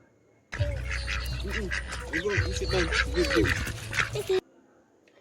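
An animated goose honks repeatedly in quick, raucous bursts for several seconds, loud and close, starting and stopping abruptly against near silence.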